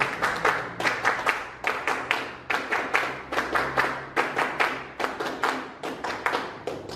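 A crowd at a political party gathering claps in unison, a steady, rhythmic chant-like pattern of sharp group claps repeating in quick bursts for several seconds.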